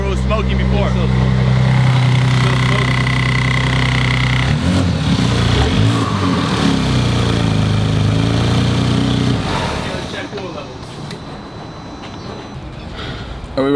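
A 2019 Audi RS5 engine, rebuilt after heavy damage and still smoking in the engine bay, runs loud and rough nearby, revving and churning, then settles to a quieter, steady idle toward the end.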